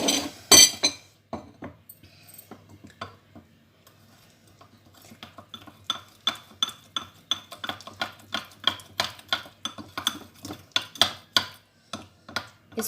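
Spoon stirring a multani mitti face pack with rose water in a small bowl, a rapid run of light clinking scrapes that starts after a brief clatter and quiet pause, close and steady, no voices.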